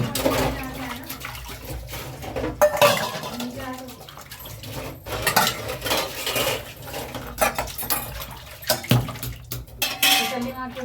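Pots, steel utensils and a bottle are scrubbed and rinsed with water, with irregular clanks, scrapes and splashes close by while someone talks over the washing.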